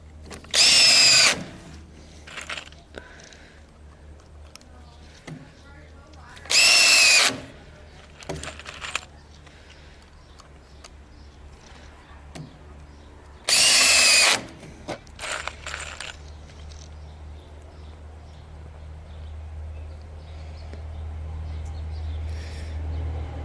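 A power drill fitted with an extension drives fasteners into wooden framing studs, with three loud, close bursts of whirring spread across a quiet stretch, interspersed with faint clicks and handling noises, then a steady low hum.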